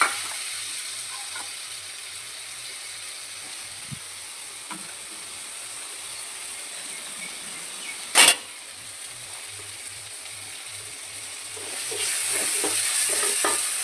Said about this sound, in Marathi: मस्तपैकी आपला बटाटा पण शिजून घ्यायचा थोडासा. मस्तपैकी असा बटाटा भाजून द्यायचा.